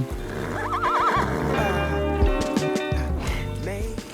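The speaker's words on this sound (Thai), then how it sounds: "ก่อนจะนั่งบีชบาร์ไปขี่ม้าก่อน" A horse at a beach neighs loudly and close, a long wavering whinny followed by a second shorter call, with faint clip-clop and snorting around it.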